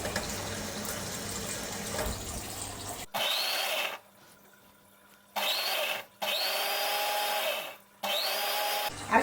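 A kitchen mixer grinds green chillies and lemongrass with a little water into a paste, running in loud whirring bursts separated by short quiet pauses.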